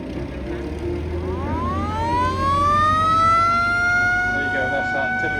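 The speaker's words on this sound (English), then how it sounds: "That's that typical American siren." American emergency vehicle siren rising into a loud, wailing tone and holding steady at an outdoor military show, with crowd noise and voices underneath.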